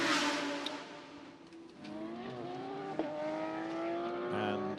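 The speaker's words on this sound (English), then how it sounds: "the remainder of the grid heading out onto the circuit" GT race cars leave the pit lane onto the Macau street circuit, their engines rising and shifting through gears at moderate distance, while a commentator talks over the steady motor drone.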